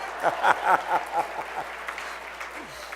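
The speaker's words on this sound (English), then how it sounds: "Give me a big round of applause for that." Applause from a keynote breakfast audience comes in several quick swelling bursts over the first two seconds and then thins to scattered clapping, with no talk over it.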